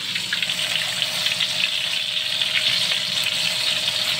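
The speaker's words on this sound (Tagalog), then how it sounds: "Ang first batch ng ating karne na prito. Crispy yan" Steady sizzling of meat crispy-frying in a pan, a continuous hissing crackle heard close and fairly loud without talking.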